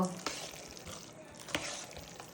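Rice is stirred and mixed in a hot pan, giving a soft continuous scrape with a faint sizzle and two sharp clicks of a spoon against the pan.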